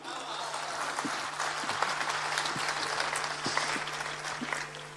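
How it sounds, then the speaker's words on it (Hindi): Audience at a Hindi comedy poetry gathering (kavi sammelan) in Raipur claps together in a steady, moderately loud burst of applause, with scattered individual claps standing out and a low stage hum underneath. "एक बार जोरदार ताली बजाओ।"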